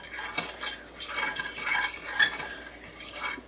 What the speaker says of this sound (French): J'ai tout mis les ingrédients, je mélange bien